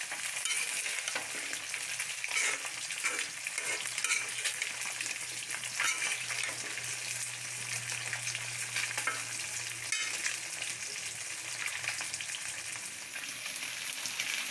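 Winter vegetables go into a pan of well-fried masala, giving a loud, continuous close sizzle with steady stirring scrapes and crackle that holds at an even level throughout, no talking.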